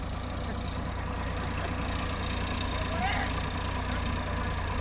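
A Sonalika tractor stuck deep in water runs at a steady, low idle with water in the engine liner, a constant muffled drone heard from a distance with faint background voices.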